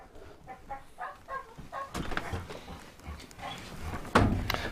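Excited puppies yapping and whining indoors before a walk, a run of short high yelps at first, then scattered barks, scuffles and thumps at moderate distance, fairly quiet overall.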